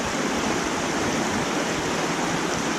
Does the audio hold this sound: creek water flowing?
yes